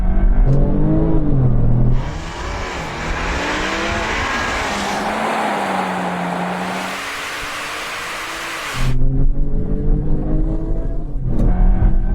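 Porsche 911 Turbo S and Skoda Superb sleeper launching side by side in a drag race, a loud surging engine roar with rising revs and gear shifts that builds, holds, then cuts off.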